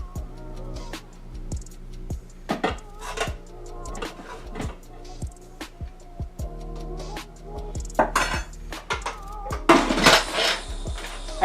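Dishes and utensils clatter while a plate of food is served up, with a pressure cooker of warm rice nearby; irregular close clinks and knocks of plates and cutlery come in bursts, busier and louder toward the end.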